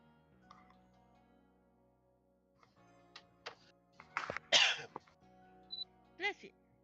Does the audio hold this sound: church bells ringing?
no